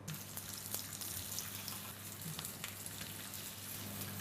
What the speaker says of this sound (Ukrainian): Пательня у нас розігріта, додаю олійку.